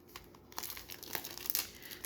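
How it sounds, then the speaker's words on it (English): Crinkly plastic rustling and crackling in short bursts, close up, with a few sharp tearing crackles as the wrap is pulled off a new book. "let me take the plastic off so it won't be shining in your face."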